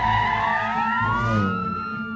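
A wailing ambulance siren rises and falls in pitch, loud and close, sustained throughout with a low engine rumble beneath.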